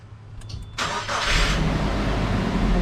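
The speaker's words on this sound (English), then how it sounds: "so I'm going to start up the vehicle" A car engine being started during a brake pad, rotor and caliper job: a brief crank quickly catches into a loud, steady running rumble, heard close with no talking.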